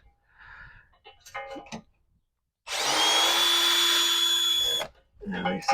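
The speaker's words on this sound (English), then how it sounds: "Take the drill." A power drill runs in one sustained loud burst for about two seconds while a sewer hose storage box is built from scrap for an RV, with a steady whine; brief talk is heard before and after.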